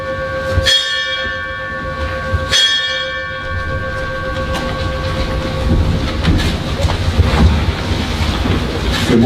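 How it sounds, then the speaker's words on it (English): The school's Founders Bell rings at a Westerford High School Founders Day assembly, with loud metallic strikes about two seconds apart that ring out over a low, rumbling hall ambience. "We are now going to ring the Founders Bell."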